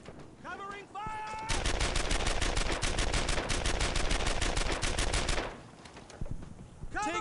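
Sustained, rapid machine-gun burst in the Earned in Blood war game, loud and close, running several seconds as a dense rattle, with brief whistling effects before and after.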